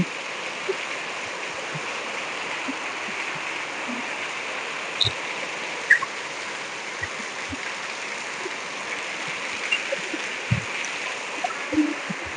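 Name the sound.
heavy rain and running water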